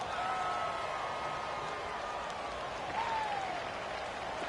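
A football stadium crowd roars in a dense, continuous wash of cheering and applause ahead of a big third down, with faint whistles rising and falling over it.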